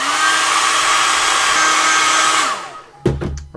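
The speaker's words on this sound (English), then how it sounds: "I'm going to accelerate the drying process by going with a hair dryer, so there's going to be a noise coming." A hair dryer drying paint on a miniature dragon blows a loud, steady whir for about two and a half seconds, then cuts off and winds down, followed by a few knocks and handling sounds.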